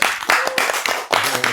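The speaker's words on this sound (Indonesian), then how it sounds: "Beri tepuk tangan dulu buat ketiga narasumber kita" An audience claps for three guest speakers at an event, irregular bursts of handclaps coming near and uneven, briefly thinning before picking up again.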